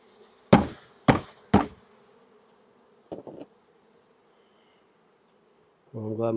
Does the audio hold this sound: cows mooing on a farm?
no